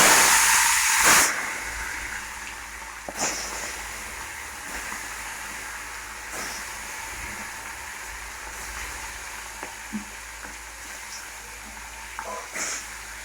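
Fish coated with turmeric hits hot oil in a heated kadai with a loud hissing burst that settles into a continuous steady sizzle, with occasional spits and pops close by.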